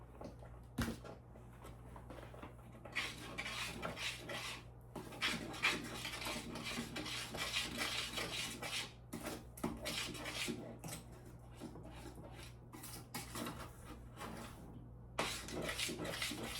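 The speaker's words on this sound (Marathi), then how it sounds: "छान व्यवस्थित मिक्स करून घ्यायचं आहे आपल्याला." A spoon stirs sugar and a pinch of salt in a bowl while cooking for Holi: steady clinking and scraping against the bowl for about sixteen seconds, close up, over a low constant hum.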